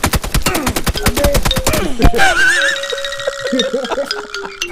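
Rapid automatic gunfire in the battle royale game PUBG, a dense loud burst of shots followed by scattered single reports and ringing tones, with excited players shouting over it.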